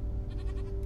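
A goat bleats in a Minecraft-style video game, a short, wavering call heard alone over a steady low background hum, lasting under a second.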